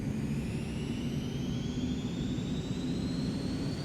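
Steady, loud roar of an aircraft engine at full power in the X-Plane 11 flight simulator, a continuous low rumble with rising whine tones over nearly four seconds, no talking.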